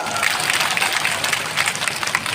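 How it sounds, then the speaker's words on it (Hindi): Audience applause at a political rally: a dense, steady wash of clapping from a crowd, loud and continuous for a couple of seconds with no clear voices over it. "अरे इस पे तो ताली बजाओ ना।"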